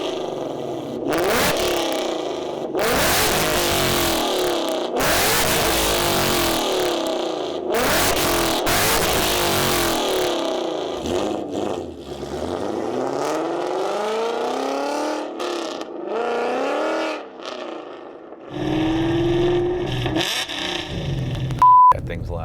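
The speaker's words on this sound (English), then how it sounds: "the Corsa Extreme catback with its double helix X pipe, along with the Stainless Works off-road long tube headers, should be a tad on the raspy side" A 2015 Ford Mustang GT V8 in triple yellow, fitted with a Corsa Extreme catback exhaust with double helix X-pipe and Stainless Works long tube headers, revs loudly and raspily in repeated bursts, with idle between throttle blips.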